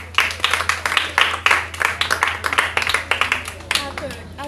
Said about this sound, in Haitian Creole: On demande d'applaudir Vincent s'il vous plaît.